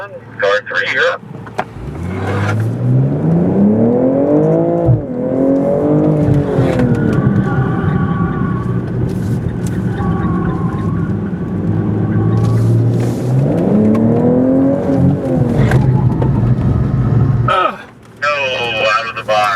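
A race car accelerating hard on a track, its engine rising and falling through gear changes, loud and close, with people talking over it.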